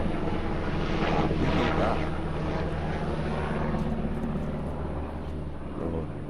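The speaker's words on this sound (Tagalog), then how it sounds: "Siguro nga, helicopter ah." A helicopter flies near an Alligator Lake car-camping site and fishing spot, its steady rotor and engine drone continuous and fairly loud, fading slightly toward the end.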